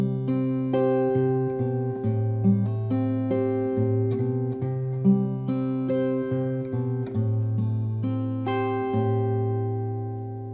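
A fingerstyle acoustic guitar plays the intro to a song, with plucked notes ringing over sustained bass strings in a slow, flowing pattern, close and clear with no talking.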